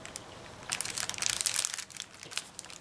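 Paper being folded over and creased to close a small Halloween treat package, giving dry crinkling and crushing rustles in uneven bursts close to the microphone, loudest in the middle, with no voices.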